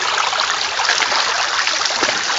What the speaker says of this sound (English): A little waterfall action going there.